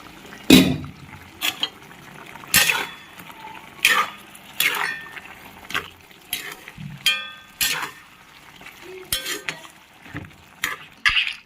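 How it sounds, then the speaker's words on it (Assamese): Goat meat cooked with yogurt is stirred in a covered pot: sharp metallic scrapes and clanks of a spoon against the pot come in quick irregular strokes over a low bubbling background, close up. "ঢাকন মাৰি মাৰি মই এনেকে লৰাই আছো"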